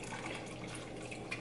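Water poured into a container for dyeing a wig blue, a steady close splashing trickle that runs continuously throughout.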